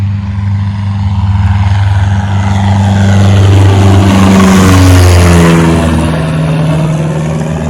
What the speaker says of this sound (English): Look at this plane taking off behind us.